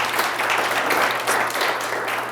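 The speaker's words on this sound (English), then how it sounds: "Let's do a round of applause" A round of applause from an audience at a Cranmore summer staff orientation, a dense, steady wash of many hands clapping that holds at full strength for a couple of seconds.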